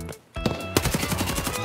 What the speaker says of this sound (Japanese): 別の方向からの銃声。